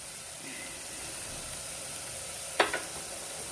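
Tomato masala for kabsa sizzles gently in a pan as turmeric is added, a quiet, steady frying hiss with one brief clink of a spoon against the pan.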